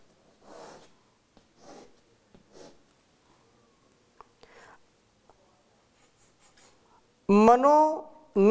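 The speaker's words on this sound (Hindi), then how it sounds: "मैं वेद मंत्र लिखता हूँ" A Vedic mantra is written by hand, producing several soft, close scratching strokes spaced about a second apart in an otherwise quiet room, before a voice starts speaking at the end.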